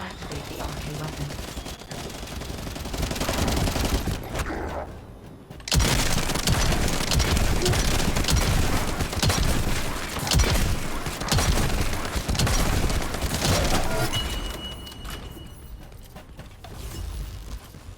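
Shotgun fire and combat in the sci-fi looter-shooter The First Descendant. Dense, continuous blasts, clanks and mechanical clatter fill the whole stretch, loud and close, with a brief lull partway through.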